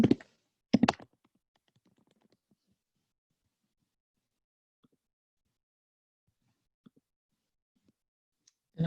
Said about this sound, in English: So I'll just go to all databases and I will type the species name.